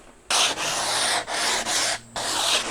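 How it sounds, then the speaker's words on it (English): A sanding block loaded with 240 grit sandpaper rubs along the trimmed edge of a door in steady back-and-forth strokes, loud and close, with brief breaks between passes. "So I'm just using a sanding block with some 240 grit sandpaper."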